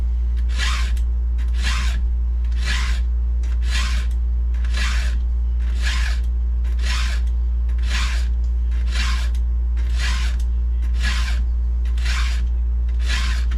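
A hand file sharpening a 36-inch archer chainsaw chain, rasping in even strokes about every second and a half, a dozen or so rough scrapes over a steady low hum.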